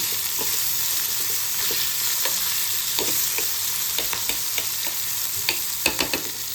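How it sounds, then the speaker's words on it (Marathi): Chopped green chili pieces frying in oil in a pan while being stirred, giving a steady close sizzle broken by repeated scraping taps of the spoon against the pan, with no talking. "याला छान हलवून घेऊया."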